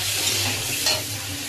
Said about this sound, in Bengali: লঙ্কা বাটা দিয়ে একটু নাড়াচাড়া করে নিলাম।